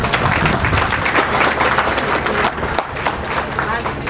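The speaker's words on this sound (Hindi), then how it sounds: "जोरदार तालियां एक बार" A crowd at a women's development program event in India gives strong, sustained applause with a busy wash of clapping from many hands, loud and steady and easing slightly toward the end.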